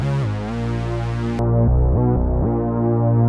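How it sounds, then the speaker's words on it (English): A Serum synth patch plays a bright buzzy tone, then the Low 18 filter cuts in mid-phrase and leaves a darker, muffled sustained sound with gliding pitch changes, close and alone. "so it's going to sound like this without and then with the filter."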